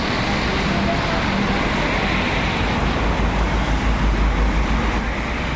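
A steady, loud roar of heavy typhoon rain with gusting wind, a dense unbroken noise with a low rumble swelling toward the end.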